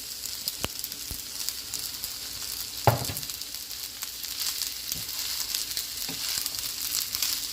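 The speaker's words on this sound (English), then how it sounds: "Just mixing the vegetable together." Vegetables sizzling steadily in a pan while being stir-fried for Jamaican-style vegetable fried rice, with occasional clinks and scrapes of a utensil stirring.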